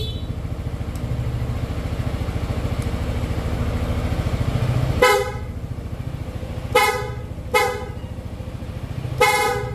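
Horns on a Yamaha Xmax scooter, an aftermarket PIAA loud horn and the stock horn, give four sharp honks after about five seconds of steady idling engine, the blasts close, loud and separated by short gaps.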